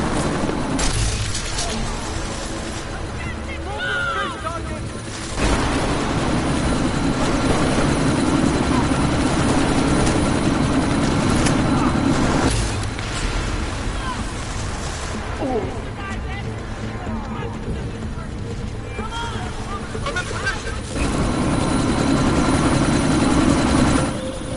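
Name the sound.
helicopter taking off in video game Deus Ex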